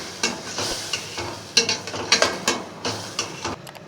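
Spice paste with about 100 grams of yogurt cooks in a pan for a chana pulao, with a steady soft sizzle broken by irregular scraping stirs and light clinks of a spoon against the pan, close up and without talk.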